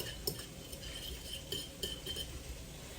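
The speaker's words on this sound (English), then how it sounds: "I'm just gonna use a fork and just kind of move that around" A fork stirring a small amount of salad dressing with a pinch of Dijon in a dish, soft metallic clinks and scrapes against the bowl at an irregular rhythm, close and quiet.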